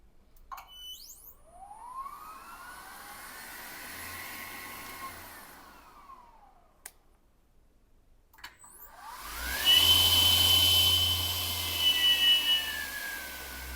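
A steady dust extraction motor whine on a 9Craft 205BE brushless circular saw runs with a rising and falling tonal hum, growing louder and harsher near the end with a high-pitched component.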